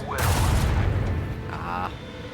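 A heavy cannon blast in Warhammer 40,000: Rogue Trader booms out, followed by a fainter mechanical rumble and a short tonal whine.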